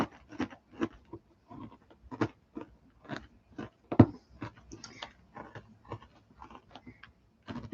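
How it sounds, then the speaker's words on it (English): Felting needle repeatedly poking into stiff wool worked around a bendy wire armature, giving a steady series of short, dry crunches at close range, roughly two per second, with no talking. "You can hear that kind of crunching as I'm poking in"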